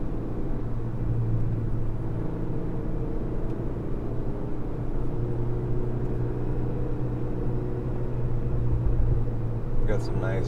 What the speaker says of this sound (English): Burbles out the back of the car.